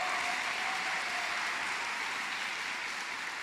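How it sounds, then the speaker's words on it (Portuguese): Applause from a church congregation during a revival service, a steady dense wash of clapping hands lasting a few seconds and gradually easing slightly, with no voices over it. "Pode aplaudir!"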